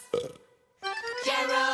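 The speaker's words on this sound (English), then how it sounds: "but watch out when he burps" Cartoon burp sound effect from an animated children's show, a short voiced belch followed after a brief gap by a longer, louder tonal blare with strong harmonics, close and clear with no talk.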